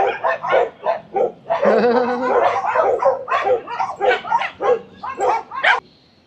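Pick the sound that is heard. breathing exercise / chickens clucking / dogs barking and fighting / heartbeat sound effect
dogs barking and fighting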